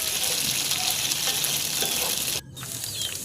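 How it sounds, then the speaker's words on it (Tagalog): Tofu fries in hot oil in a pan, a steady close sizzle and crackle with a brief dip in the middle before the hiss resumes. "nagpainit muna ako ng mantika, tapos nilagay ko yung tofu"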